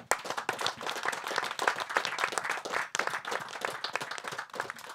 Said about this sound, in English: please give yourself a warm round of applause